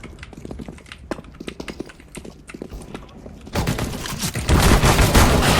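Rapid gunfire in Counter-Strike: Global Offensive, sharp repeated shots in quick bursts that grow louder and denser toward the end, forming a heavy fusillade.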